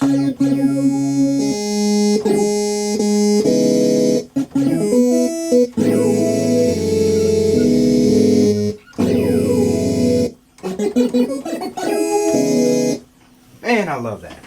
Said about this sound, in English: Let's pull up the phaser BI-tron again